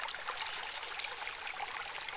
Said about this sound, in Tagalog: pakinggan nyo yung tubig guys. The sound of the nature.